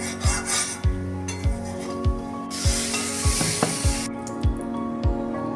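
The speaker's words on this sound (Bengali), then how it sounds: "এইবার কড়াইতে তেল আর তেলের মধ্যে দিয়ে দেব কালো জিরে আর শুকনো লঙ্কা ফোড়ন" Nigella seeds and dried red chillies hit hot oil in a kadai for a tempering. A bright hissing sizzle swells midway, over steady frying and scattered metallic clinks and scrapes.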